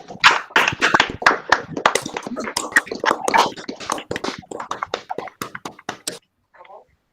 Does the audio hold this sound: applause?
yes